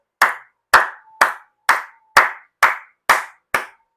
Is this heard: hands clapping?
yes